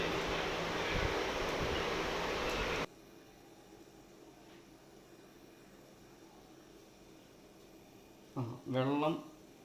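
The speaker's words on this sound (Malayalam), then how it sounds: "വെള്ളം തിളച്ചുകൊണ്ടിരിക്കുകയാണ്." Water boils hard in a pot while dough for homemade Kerala kozhukatta is prepared: a loud, steady rushing hiss for about three seconds, then it drops to a faint murmur, and a voice speaks briefly near the end.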